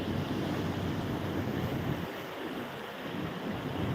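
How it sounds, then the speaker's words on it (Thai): Strong wind roars across the microphone over the steady wash of sea waves, a constant, loud rush with no voices. "มาชมทะเลค่ะ เป็นทะเลสวยๆลมแรง"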